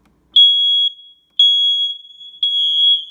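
Interconnected smoke detectors sounding during a test, three loud, piercing high-pitched beeps in an even repeating pattern with short gaps, close by and without talk.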